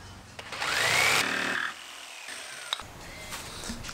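A jigsaw fitted with a fine-tooth blade cuts briefly, a rising motor whine and rasp lasting about a second, followed by quieter handling noises.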